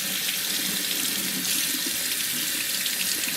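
Warm water from a tap runs steadily over a 1994 GI Joe Shadow Ninjas Bushido action figure, a continuous close hiss and splash in a sink with no pauses.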